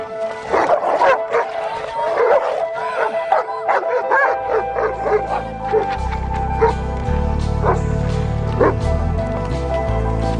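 Several dogs at a rescue effort bark, yip and whimper in repeated bursts, fairly close and loud, with a low sustained music-like drone rising beneath them partway through.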